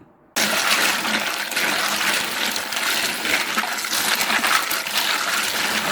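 Freshwater snails are washed in water, making a loud, continuous rush and splash that starts abruptly and continues close by for several seconds. No one talks.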